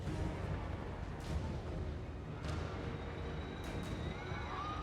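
Hell cannon fire aimed at trolls in a Warhammer strategy game, a few distant booming artillery shots standing out of a constant rumbling battle noise, with no talk.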